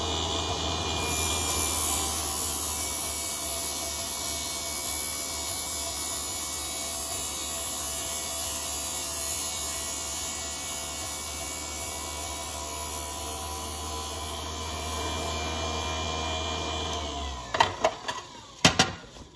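A tire truing machine shaves an RC Mudboss tire with a steady cutter pass, a continuous whirring hum with hiss that holds level for about seventeen seconds before the motor cuts off with a few clattering knocks.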